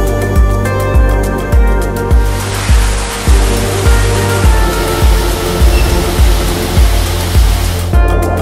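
A mountain waterfall at the Combe du Pilouvi nature site gives a loud, steady rushing roar of falling water heard from close by, with a repeated low thumping in the background and no speech.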